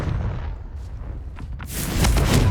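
Confringo blasting spell from Hogwarts Legacy bursting into a loud explosion, a low rumbling buildup erupting into a sharp, bright blast in the final second.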